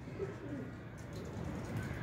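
Pigeons that have been daubed with colour coo close by, low throaty rolling calls repeating over a steady background hum.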